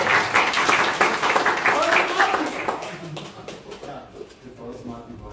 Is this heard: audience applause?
yes